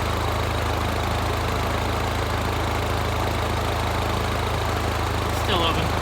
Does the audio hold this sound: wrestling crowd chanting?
no